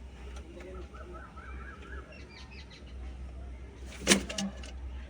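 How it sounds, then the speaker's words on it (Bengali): Pigeons in a loft give soft, faint coos and calls against a quiet background, with a brief louder flutter or rustle near the end. "দেখুন এই দুটো জোড়া পায়রা, অসাধারণ জোড়া পায়রা"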